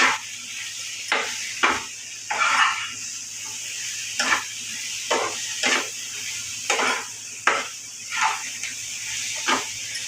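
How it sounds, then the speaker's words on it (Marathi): Okra frying on high heat in a pan, a continuous hiss broken by regular sharp scraping stirs every second or so, close and moderately loud. "भेंडे ते घालते चांगल्या प्रकारे मला भाजून झालेले आहेत भेंडे फास्ट वर आहे"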